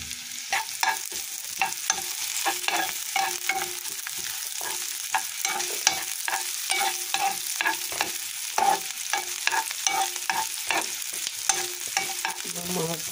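Bacon and onion frying in a pan, stirred with a rhythmic series of scraping clicks over a steady sizzle throughout, close and fairly loud.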